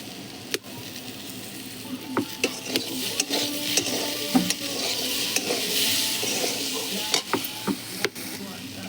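Curry seasoned with spice powder and salt fries in a pan, a steady sizzle with frequent scraping and clinking of a spatula stirring against the metal, close up and without talk.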